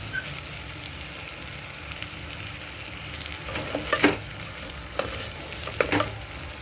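Meat with rum sizzles and fries in a pan over a high flame, a steady close crackle with occasional stirring scrapes and clinks, no voices.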